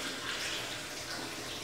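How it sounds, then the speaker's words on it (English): Water dumped from an eye wash station basin straight into its drain: a steady, loud rushing pour that stays close and continuous throughout, with no voices. "carefully lift that up and dump your water in there, and that just goes straight into the drain"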